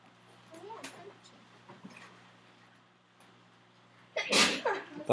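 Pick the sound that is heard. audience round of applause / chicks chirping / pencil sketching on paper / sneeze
sneeze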